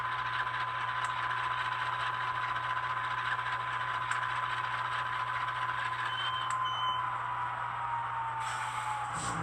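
A Rapido N scale CN Dash 8-40CM model locomotive backs up, giving a steady diesel idle drone with a low hum and faint repeated reversing beeps throughout.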